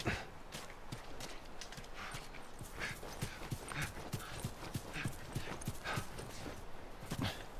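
Hooves clop in a quick, steady rhythm, like a horse trotting along, constant and moderately close against a rough background, in the video game The Last of Us.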